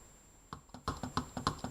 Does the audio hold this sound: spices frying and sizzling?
no